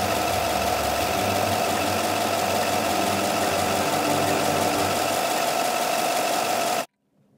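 The 5.3-liter V8 of a 2019 GMC Sierra 1500 Elevation runs steadily with a dense, even mechanical hum, heard alone and close before cutting off abruptly near the end.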